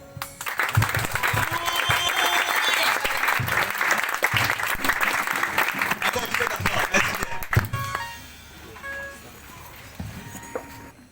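A church congregation applauding, loud sustained clapping mixed with crowd voices and cheering for several seconds, then fading to scattered claps and quieter murmur.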